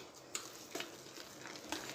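Urad dal batter for dahi vada beaten by hand in a bowl, soft wet slaps and scrapes in an uneven rhythm, fairly quiet and close.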